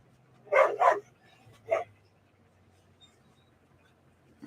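Dogs bark at a distance, two quick barks followed by a third after a short pause, faint against a quiet indoor background.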